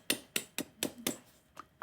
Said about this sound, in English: Listen to the crispy pastry.